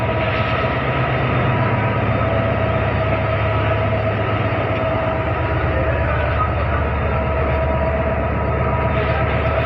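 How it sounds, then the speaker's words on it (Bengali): A train from Ishwardi pulling into Kamalapur railway station in Dhaka, a loud, steady rumble of rolling wagons and engine with a faint rhythmic wheel clatter, close and continuous throughout. "ট্রেন কিন্তু আরেকটা চলে আসছে ঈশ্বরদী থেকে।"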